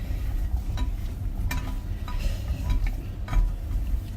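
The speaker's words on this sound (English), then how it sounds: "Make sure they get a good coat of Fry Light. Mix them around" Parboiled chips tossed and mixed with Fry Light spray oil, giving light clattering scrapes and soft knocks over a constant low rumble, close up with no one talking.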